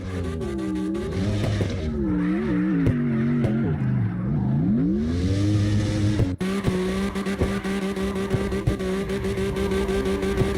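A car drifting in the CarX Drift Racing Online video game, engine revving and wailing with shifting pitch while tires squeal loudly through long slides, then a sharp hit and sustained high revs.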